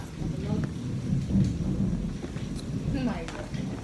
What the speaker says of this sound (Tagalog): nakulog